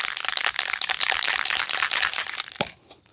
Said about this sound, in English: what we've got to do is just shake that can really well